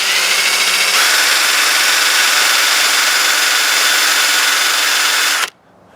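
A rotary tool spins a soft fluffy buffing pad loaded with white diamond polishing compound against a cut rock, giving a loud, steady high-pitched whine that holds constant, then cuts off abruptly near the end.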